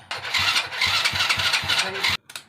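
An engine with a burnt-out NGK spark plug cranks on choke in rapid, rhythmic pulses for about two seconds, then stops abruptly without catching.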